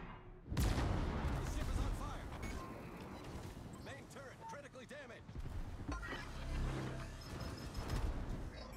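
Warship main guns fire in a World of Warships naval battle, a sharp loud boom opening the stretch and followed by dense rumbling salvos and crashes under continuous game noise, with someone talking throughout.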